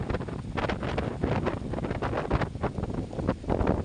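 Strong wind buffets the microphone in loud, rumbling gusts that surge and ease throughout, with a roaring, turbulent quality and no voices.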